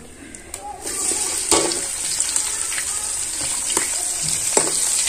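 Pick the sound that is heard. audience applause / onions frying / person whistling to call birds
onions frying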